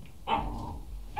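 A dog gives one short close bark followed by a low trailing growl-like whine, with quiet room noise around it.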